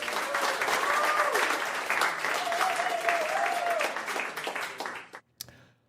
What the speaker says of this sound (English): Can I give you a round of applause?